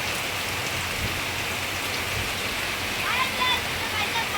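Rain falls steadily, a dense even hiss of drops pattering on surfaces close by, with faint voices beneath it.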